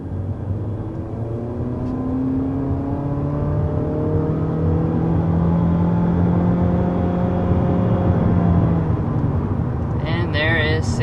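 The engine of an all-new 2023 Honda Civic Sport drones steadily as the car accelerates hard to 60 mph from inside, the pitch rising through the run and ending in a brief click near the close.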